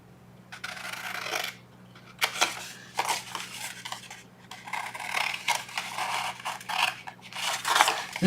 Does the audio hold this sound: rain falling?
no